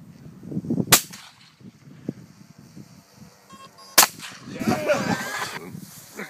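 Shotgun blasts aimed at a golden eagle RC model plane in flight outdoors: two sharp, loud reports about three seconds apart, the second followed by a rising burst of wind and engine noise, with faint voices in between.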